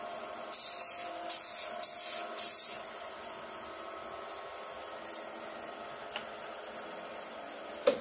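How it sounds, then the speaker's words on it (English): Glue activator sprayed onto amboyna burl wood in several short hissing bursts over about two seconds, followed by a quiet steady background with one faint tap. "And then we hit it with our activator."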